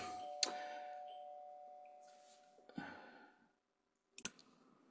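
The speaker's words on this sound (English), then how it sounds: "The doorbell rang, and we were expecting a call." A doorbell chime rings and its tone lingers and slowly fades, followed by a few sharp clicks and knocks in an otherwise quiet room.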